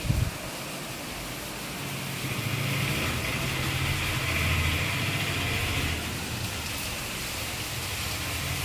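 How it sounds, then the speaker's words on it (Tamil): Heavy rain falls steadily at night outside a home, a dense continuous hiss that swells slightly midway, with a faint low engine-like rumble underneath and no voices. "சரியான மழை பெய்யுது."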